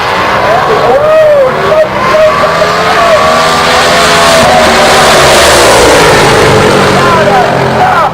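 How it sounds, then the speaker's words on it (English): Heavy street drag cars race side by side down a drag strip, loud engines roaring and revving with rising pitch throughout, with an announcer's voice talking over the engine noise. "they're going to be side by side all the way down the drag strip"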